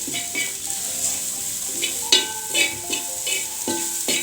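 Onions frying in oil seasoned with masala powder for a cauliflower and potato curry, a steady sizzle broken by several sharp stirring and scraping clatters, close and loud with no talking.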